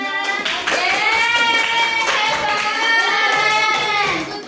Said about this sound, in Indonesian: Oke, tepuk tangan untuk temannya.